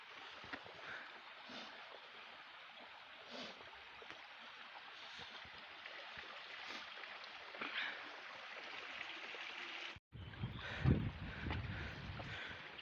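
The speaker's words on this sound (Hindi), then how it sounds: "यहाँ से पानी भर रहे हैं।" Water flowing on a mountain trek to Churdhar while bottles are filled at a stream: a continuous rushing, splashing wash outdoors with wind buffeting the microphone, broken by a brief cut and a closer, louder spill of water near the end.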